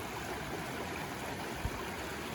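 Stream water rushing steadily at a river crossing on the Jacks River in the Cohutta Wilderness, a dense, continuous broadband wash that stays constant throughout with one brief soft knock near the end.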